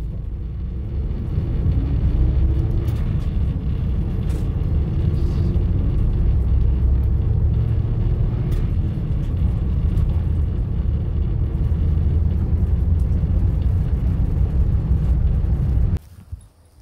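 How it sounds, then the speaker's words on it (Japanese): A bus arriving and pulling up at the Horonuka stop near Rumoi: a loud, close engine rumble holds steady for a long stretch, then cuts off abruptly near the end as it stops. "バスが来ましたね。"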